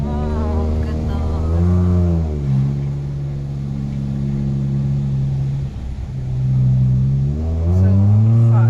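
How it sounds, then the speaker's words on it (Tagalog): Motorcycles ride downhill on a foggy road in Cebu, their engines humming loudly and steadily, rising and falling in pitch as they shift and pass close by, with people talking over them. "Bababa na yung mga motor."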